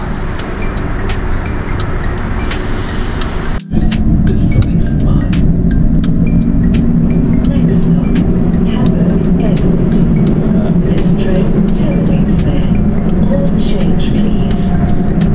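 Early-morning train ride to Hamburg Airport, with a loud continuous rumble of the moving carriage and rolling wheels, a brief dropout of sound near the start, then steady roaring noise with faint clicks.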